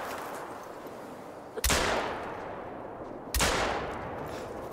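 Two loud, sharp gunshots from a slow-firing gun in the video game Hunt, spaced about two seconds apart, each with a long trailing echo over quiet background.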